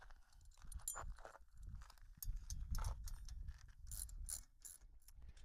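Bolts on a metal trailer dolly bracket are snugged up with a ratcheting wrench, giving quick repeated close clicks and metallic clanks in uneven bursts.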